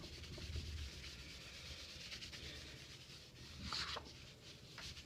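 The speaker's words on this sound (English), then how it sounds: "I'm going to give it a little bit more smudging." Soft, continuous rubbing of a pencil drawing on paper being smudged, a steady close scratchy friction with a few brief louder strokes, no voices.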